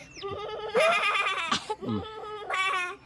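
A person mimics a goat with quavering, nasal bleats, several in a row with short gaps, loud and close.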